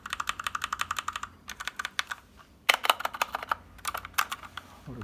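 Tactile switches clacking on a Gamdias Talos E3 60% keyboard, close and crisp, in quick typing bursts separated by short pauses, with no voices.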